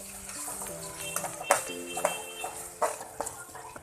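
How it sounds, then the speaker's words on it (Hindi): Mashed potatoes and cumin sautéed in a pan, with a few clear clinks and scrapes of a spoon against the metal pan over a faint sizzle, close and fairly quiet. "जीरा ऐड कर दूंगी, इसको भी हम थोड़ा सा इसमें भून लेंगे।"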